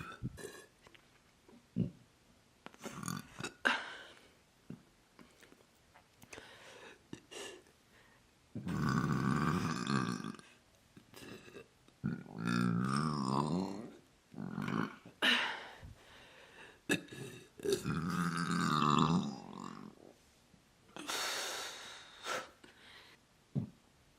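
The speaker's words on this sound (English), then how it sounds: "Today, we are going to do nothing but closed mouth burping." A person does a series of closed-mouth burps, muffled, throaty croaks and grunts spread in separate bursts with short pauses between, close and fairly quiet.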